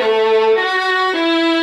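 A sustained bowed-style note played with heavy violin-style vibrato, alone and loud, stepping down in pitch across three held tones with a wavering quality.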